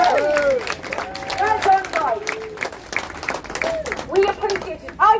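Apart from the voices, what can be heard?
crowd applauding the fathers at a protest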